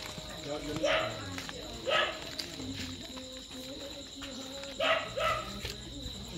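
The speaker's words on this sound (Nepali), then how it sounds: "कुकुर पसिहाल्छ" A dog barks several times at mid-distance outdoors in a Nepali village, sharp separate barks spaced a few seconds apart, while people talk nearby.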